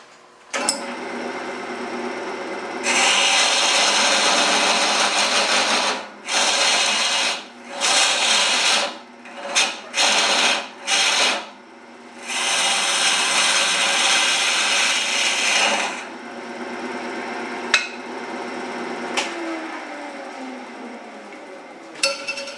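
A woodturning gouge cuts red oak spinning on a lathe, a loud, continuous rough tearing hiss that breaks into several short bursts as the tool is lifted and reapplied, then a long steady cut before falling quiet.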